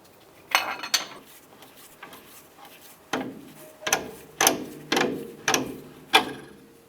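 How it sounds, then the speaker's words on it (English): A 21mm socket wrench ratchets as it removes the strut bolt and nut on a 2004-2012 Chevy Colorado front suspension, giving a run of close, loud metallic clicks and clanks in an uneven rhythm, with no talk. "Using a 21mm socket, we're going to go ahead and remove the strut, bolt, and nut right here."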